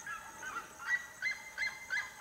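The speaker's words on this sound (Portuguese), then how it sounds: "é o canto da siriema isso aqui" Red-legged seriemas call in the late afternoon, giving a series of short, honking, yelping notes in repeated bursts, moderately distant against a faint outdoor background.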